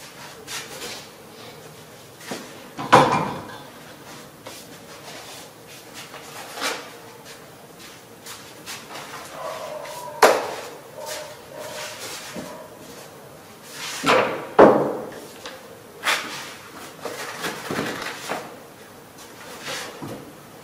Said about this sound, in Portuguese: Vamos guardar as ferramentas